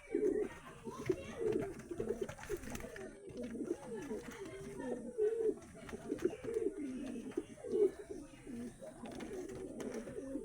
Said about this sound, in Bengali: পরপর পায়রাগুলোকে দেখানোর চেষ্টা করি